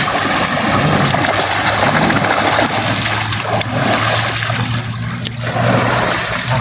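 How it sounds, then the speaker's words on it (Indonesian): A river rushes steadily nearby as a continuous broadband wash of flowing water, loud and unbroken, with a faint low hum underneath. "Kau lihat, ini sungai."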